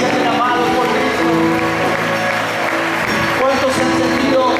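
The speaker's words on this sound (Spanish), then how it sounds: "Aplaudan fuerte si se sienten amados por Cristo." A church congregation claps loudly in a sustained, dense wash of applause that runs the whole time, mixed with music and voices in the room.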